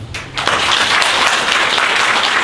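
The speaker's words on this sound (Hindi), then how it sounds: "प्रेज अपने प्रभु के लिए जोरदार तालियां" Loud, steady applause from a church congregation praising the Lord, dense clapping that swells in after a brief quieter opening and holds strong throughout, with no voices over it.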